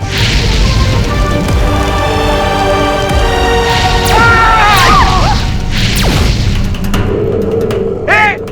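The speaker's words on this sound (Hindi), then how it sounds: "अब दिवाली के पटाखे कौन फोड़ रहा है बाहर?" Several loud, sharp firecracker-like bangs and booms burst over a noisy background, with brief whistling shrieks between them.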